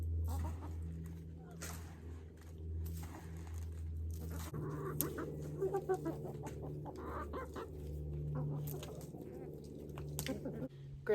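Chickens on a homestead, moved into half of a green tunnel, clucking and calling close by with a steady low hum underneath and a voice talking over them.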